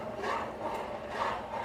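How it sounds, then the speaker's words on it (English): Boiling macaroni being stirred in a pan on a home stove, a soft scraping and swishing of the utensil through the pasta in a couple of slow sweeps, close up and fairly quiet, with no talking. "Just giving my macaroni a little stir"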